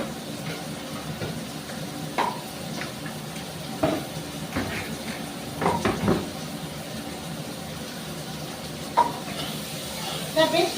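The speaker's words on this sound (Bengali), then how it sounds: "বেশ পেঁয়াজটা একটু ব্রাউন ব্রাউন কালারে ভাজা হয়ে গেছে।" Onions frying in a pan as they turn brown, a soft continuous sizzle with occasional clatters of stirring and containers, a voice talking over it at times.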